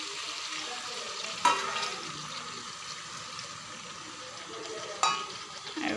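Reserved jackfruit-core cooking water goes into a new kadai of jackfruit-core and meat curry, raising a steady hiss and sizzle with a couple of sharp knocks.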